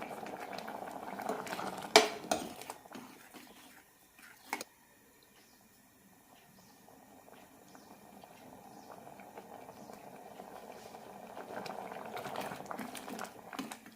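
A pot of green gram and pumpkin curry with ground coconut and shallots bubbles at a low simmer, with a couple of sharp utensil clinks early on and the soft boiling swelling again toward the end.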